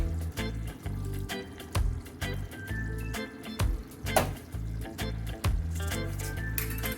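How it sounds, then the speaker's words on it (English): Ackee goes into a pot of Jamaican ackee and chicken back, landing with wet, squishy splashes and soft thuds over a steady low simmer and occasional clinks, with no voices. "And now I'm gonna add my ackee."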